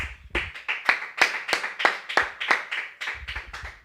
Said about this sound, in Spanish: yo siento darle un aplauso a Dios, pero vea, de esos re buenos